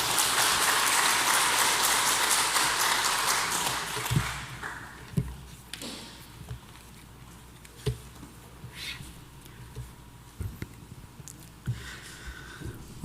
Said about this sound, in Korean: 같이 함께 박수로 함께 맞이하도록 하겠습니다.